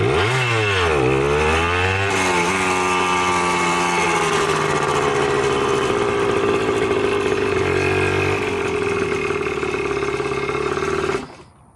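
A Suzuki DS80 80cc two-stroke dirt bike engine, bought as a cheap fixer-upper, revs up and down in a couple of quick bursts, then settles into a loud, buzzing steady run close by before cutting off abruptly.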